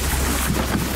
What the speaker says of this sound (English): It's just starting to rain now,